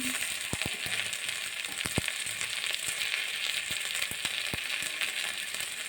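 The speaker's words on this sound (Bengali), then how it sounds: "পরিমাণ মতন হলুদ দিয়ে ভালো করে একটু ভেজে নেব।" Small mourala fish fry in a pan with ginger and cumin paste, salt and turmeric, giving a steady dense sizzle broken by sharp scattered pops and crackles, close up with no talking.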